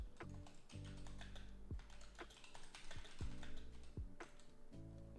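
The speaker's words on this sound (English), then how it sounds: "I was typing to make his question" A computer keyboard typed on in short irregular runs of clicking keys, close by, under a steady tonal hum and a few low thumps.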